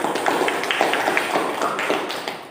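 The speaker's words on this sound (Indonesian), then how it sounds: "Kita beri aplaus untuk kelompok 3" A classroom gives a student group a round of applause, a quick burst of scattered hand claps from a small group, close and fairly steady for a couple of seconds.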